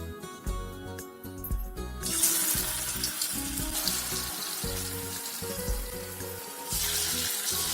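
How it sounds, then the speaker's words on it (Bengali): Barfi-shaped lentil cakes frying in hot oil over medium heat, a steady close hiss and sizzle with bubbling, joined partway through by a brief metallic clink. "এবার এই বরফিগুলো আমি ভেজে নেব।"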